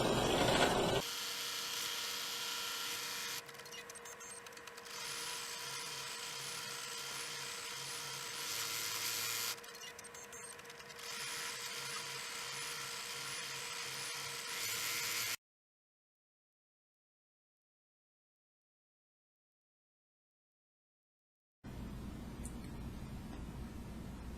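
An embroidery machine sews a satin stitch border around fabric applique, making a steady, rapid mechanical whirring that shifts pitch between stitch passes. It stops dead, falls silent for several seconds, then resumes.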